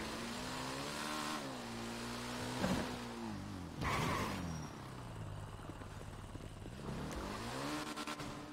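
A motorcycle rides along with its engine revving up and down in several rising and falling sweeps, loud and close, with wind noise and no talk.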